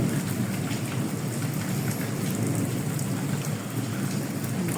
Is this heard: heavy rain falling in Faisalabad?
yes